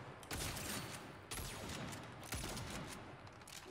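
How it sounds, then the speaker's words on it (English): Rapid, continuous gunfire in the video game Saints Row, dense overlapping shots that carry on through the whole stretch, fairly faint in the mix, with no talking. "I can just continuously shoot because I have a lot of ammo."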